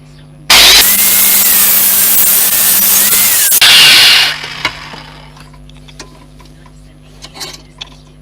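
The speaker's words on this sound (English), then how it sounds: "Been using a Dremel with a cutting head on it, just to sculpt out either side so it sits on the bar." A Dremel rotary tool fitted with a cutting disc grinds through metal on a motorcycle subframe build, a loud, harsh, high whine lasting about three seconds, briefly pausing, then resuming before winding down to quiet workshop clatter.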